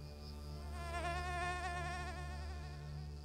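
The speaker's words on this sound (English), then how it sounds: "the summer sun, which strikes a land of marshes teeming with insects" Dense insect buzzing over summer marshes, a steady whining drone of many mosquitoes and flies holding close and continuous throughout, with no voices.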